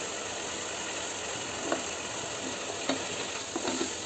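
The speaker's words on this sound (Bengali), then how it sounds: "সবজিগুলো দিয়ে একটু কষাই নিই ভালো করে।" Potato and bean pieces sauté in a pan for vegetable khichuri, giving a constant close hiss of frying with a few light stirring clicks near the end, no voices.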